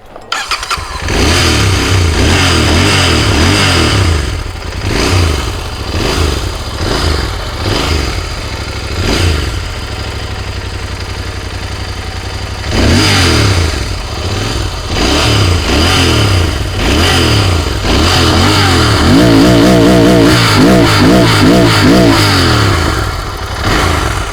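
A Royal Enfield motorcycle fires up and settles into a loud, close idle, its thumping exhaust note broken by repeated throttle blips and revs that rise and fall throughout, with no talking.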